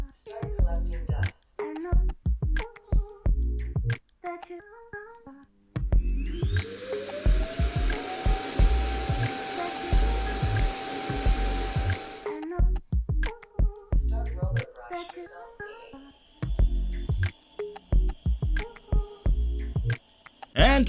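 An eufy Clean X8 Pro robot vacuum's station starts collecting dust with a rising whine that becomes a loud steady roaring hum for several seconds, then stops. Speech comes before and after it.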